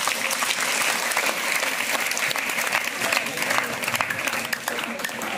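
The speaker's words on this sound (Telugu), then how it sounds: "పూజిత గట్టిగా చప్పట్లు కొట్టండి." A crowd of students and parents claps for a first-prize winner at a school parent-teacher meeting, dense sustained applause close by throughout.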